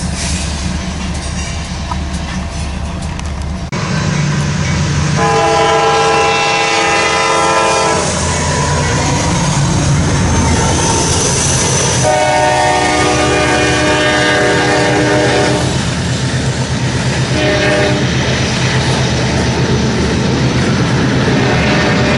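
A Wisconsin Central freight train rolls past with a loud horn sounding in several long blasts over steady wheel and rail rumble, close and continuous throughout.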